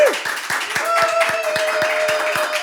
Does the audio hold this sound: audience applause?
yes